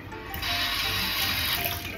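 Tap water runs steadily from a faucet into a pot, filling it to boil for pancit canton; a continuous, close rushing stream with no talk over it.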